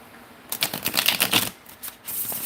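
A deck of cards is shuffled close up, giving a quick burst of rapid riffling clicks followed by a brief flutter and settle.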